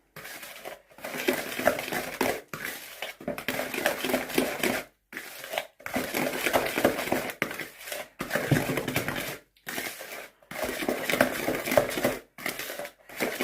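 Chocolate chip cookie dough being mixed by hand in a bowl, giving repeated scraping and thudding strokes in bursts with short pauses, fairly close and moderately loud, with no talk over it.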